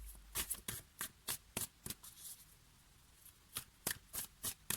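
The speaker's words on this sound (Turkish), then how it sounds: "Ben buraya ek bir kart daha seçmek istedim." Tarot cards are shuffled and drawn by hand, giving a quiet, close run of crisp rhythmic snaps and riffles with a brief lull in the middle.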